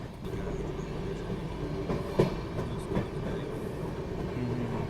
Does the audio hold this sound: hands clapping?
no